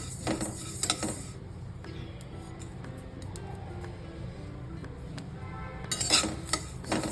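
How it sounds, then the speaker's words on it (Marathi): Flax seeds dry-roast in a pan on a low flame, giving scattered small crackles and pops over a soft background, with louder clattering of a utensil against the pan at the start and end. "चांगले हे उडतात बघा असे चटचट चटचट आवाज येतो चांगले भाजले ना"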